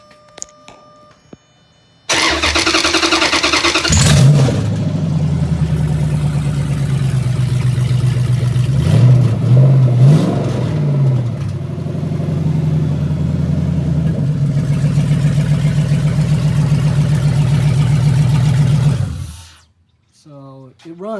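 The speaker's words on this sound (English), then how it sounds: "It runs, all the wires are pinned out correctly" A swapped Hemi 5.7 V8 running on a test harness cranks briefly, catches and settles into a loud, steady idle close by, with a few revs partway through before being shut off, with no radiator fitted.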